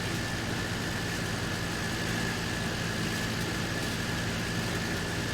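An Ursus tractor engine runs steadily while pulling a hay rake during early haymaking, a constant loud drone with low rumble that stays even throughout, no voices over it.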